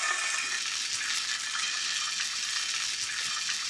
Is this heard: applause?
no